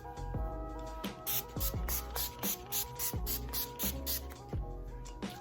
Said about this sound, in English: So shake it a little bit and then spray it.